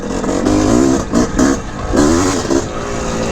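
A 1981 Honda CR450R Elsinore motorcycle engine lugs and revs at low RPM, its loud, close two-stroke note surging and dipping in several pulses across the short burst, with no voices.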